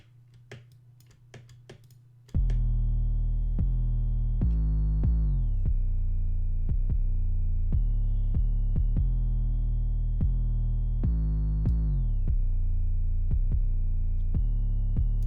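A synthesized bass line plays a simple repeating pattern of sustained, buzzy notes, loud and steady after a brief quiet, low hum at the start.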